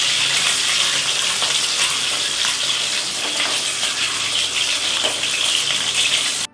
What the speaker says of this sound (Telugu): గుడ్లు వేస్తాడు నూనెలో వేసుకొని వేసుకోవాలి.